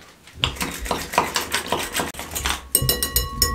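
Eggs with salt and black pepper are beaten in a bowl: a fast, regular series of close clinks and taps of utensil against dish, with a brief pause before the rhythm resumes.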